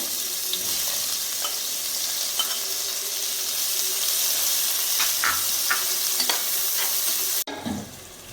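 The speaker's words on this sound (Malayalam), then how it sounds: "ഈ ഒന്നര സവാളയുടെ ഒരു മുക്കാൽ പോർഷൻ ഞാൻ ഇട്ട് കൊടുത്ത് വറുത്തെടുക്കുകയാണ്" Sliced onions fry in hot oil in a pan for ghee rice and chicken Mughalai, giving a steady, close sizzle with occasional stirring clicks before it cuts off abruptly near the end.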